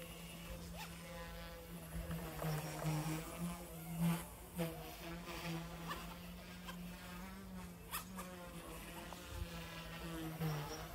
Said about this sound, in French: On va pouvoir donc utiliser les gaz pour faire lever l'hélicoptère.